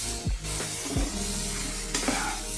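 Poppy seed and green chili paste frying with potatoes in a pan, a soft steady sizzle with a few scraping stirs of a spatula against the pan.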